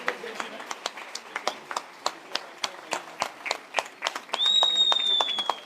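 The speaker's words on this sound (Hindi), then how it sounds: "एक बार जोरदार ताली फॉर प्रिया।" Clapping at a leadership team event comes as sparse, separate hand claps in an uneven rhythm from a small audience, then thickens briefly near the end as a whistle-like tone cuts in.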